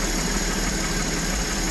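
A flood-damaged Porsche 981 engine idles steadily just after its first startup, with a continuous low rumble and even vibration running the whole time at a constant level and no talk over it.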